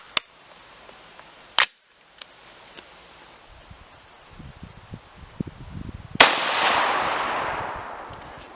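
A custom AR-15 rifle fires a reloaded .223 Remington round with a Hornady 28.5 charge at an outdoor range, one loud, sharp close report with a long decaying tail, after a few faint clicks.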